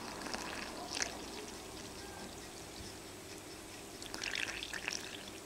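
Water being poured into flour for a day-three sourdough starter feed, a faint steady trickle with a few brighter splashy bursts near the start and toward the end, no talk over it.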